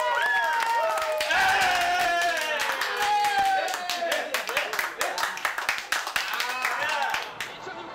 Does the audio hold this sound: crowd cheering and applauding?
yes